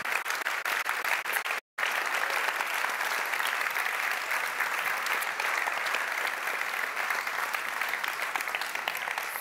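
A large audience applauds steadily at a national science-communication competition final in France, with dense, even clapping that carries on for several seconds after a momentary break near the start.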